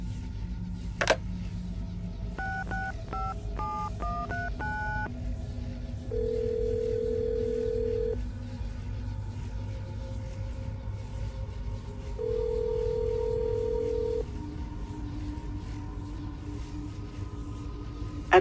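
Telephone keypad dialing tones in the Assassin's Creed video game: a quick run of distinct beeps, then steady ringback tones repeating in long pulses over a low background hum, with no talk.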